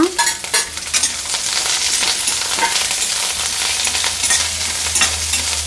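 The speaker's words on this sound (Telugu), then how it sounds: "కొంచెం ఫ్రై అయితే చాలండి ఎక్కువ ఏం ఫ్రై అవ్వాల్సిన అవసరం లేదు" Masala frying in a pan for pesarattu masala powder, a steady close sizzle with scraping stirring strokes throughout, loud and continuous with no talk.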